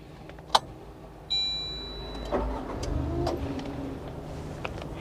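A Maruti Celerio VXI with a 1-litre three-cylinder engine is started from inside the cabin. A key click and brief starter crank come first, then the engine catches and settles into a quiet, steady idle.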